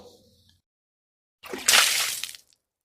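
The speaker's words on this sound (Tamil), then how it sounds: "ஒரு பாட்டில் தண்ணி காலியானா என்ன இன்னொரு பாட்டில் தண்ணி எடுத்து கொண்டு வந்து ஊற்றுவோம்" Water pours from a bottle into chapati dough in a bowl, a single splashing, sloshing gush lasting about a second, loud and close, after a brief low rumble with no voices.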